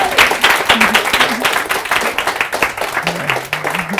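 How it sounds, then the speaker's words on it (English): Audience applause after a speaker's talk, a dense steady patter of many hands clapping throughout, with a voice speaking over it in the latter part. "Give him a big round of applause."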